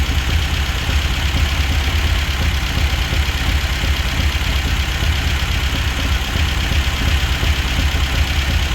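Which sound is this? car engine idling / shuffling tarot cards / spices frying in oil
car engine idling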